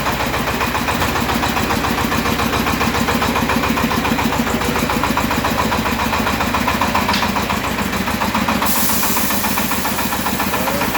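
Engine of a Shifeng SF-244 mini tractor with cab runs steadily at a low idle-like rumble, close and continuous with a faint hiss, no talking.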